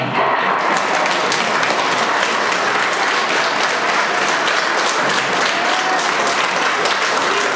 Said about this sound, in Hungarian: Tapsoljuk meg egymást.